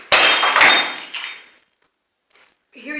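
Glass breaking on a construction site: a loud sharp smash with bright shattering, then a second smaller crash and tinkling shards fading within about a second and a half, followed by quiet and a faint voice at the end.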